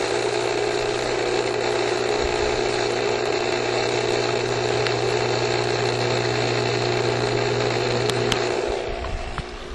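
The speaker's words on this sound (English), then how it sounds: "That's the sound of the pool pump pumping the water." A pool pump pumping water: a steady, continuous mechanical hum with a constant low drone and broadband hiss, running nonstop, fading slightly at the very end.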